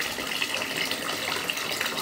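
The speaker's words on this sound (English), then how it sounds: "I'm going to turn on the hot water a bit more." Hot water runs steadily from a bath tap, a continuous hissing gush filling the tub, close and even throughout with no talking.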